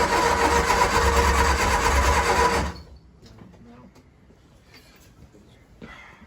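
A 1966 Triumph Spitfire Mk II engine cranks hard for under three seconds, a loud rapid churning, then cuts off abruptly without catching. Quiet shuffling and faint background noise follow.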